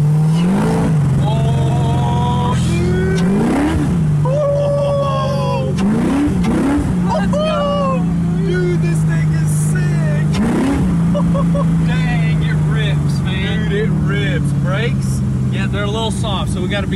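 Factory Five GTM supercar with a V8 roars up through the gears, several loud rising pulls broken by shift dips, with people talking over it and outdoor road noise around.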